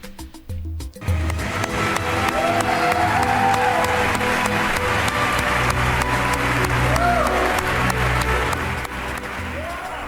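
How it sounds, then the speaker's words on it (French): A crowd applauding and cheering, continuous and fairly loud with low background rumble and occasional voices mixed in, following a short opening of other noise. "Il a eu des acclamations, ils ont ovationné de l'autre côté."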